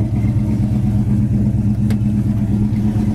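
A 1969 Chevelle Super Sport V8 holds a steady, loud, close engine rumble at idle or a light rev for the whole stretch, even and continuous, with no talk over it.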